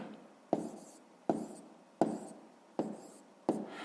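Pen strokes tap and scratch on paper as numbers are written for a fifth-grade math exercise, five distinct evenly spaced strokes, close and fairly loud, with no speech.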